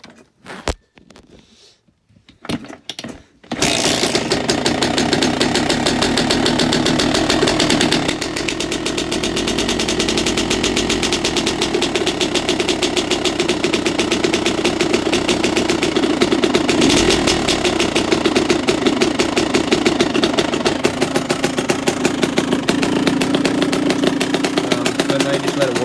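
A two-stroke dirt bike engine idles loudly and steadily while warming up, a buzzy, continuous drone that starts abruptly after a few seconds of quieter handling noise and runs without revving.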